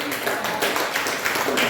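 Church congregation clapping at a sermon, a broad, continuous wash of many hands applauding at moderate volume, with a voice faintly heard underneath.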